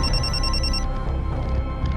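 A mobile phone ringtone sounds in a dramatized Indian crime scene, a steady electronic ringing tone that stops abruptly partway through, leaving continuous room noise with no talking.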